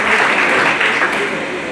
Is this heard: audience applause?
yes